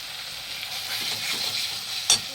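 Masala of onion, ginger, garlic, tomato, cumin paste, salt and turmeric frying in a pan, a close, steady sizzle with faint stirring and one sharp scrape near the end.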